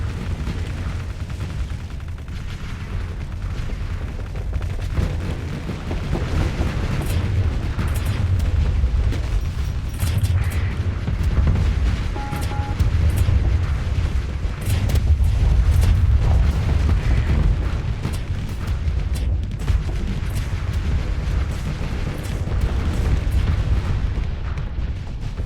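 Swarms of missiles detonating in a modded Starsector space battle make a dense, continuous barrage of booming blasts and rumbling impacts that stays loud throughout without pause.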